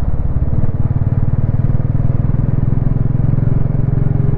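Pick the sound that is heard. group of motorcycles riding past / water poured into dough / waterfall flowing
group of motorcycles riding past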